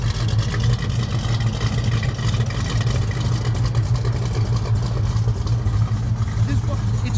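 A 1973 Plymouth Cuda 340 V8 idles nearby, a steady low burbling rumble running throughout under a voice.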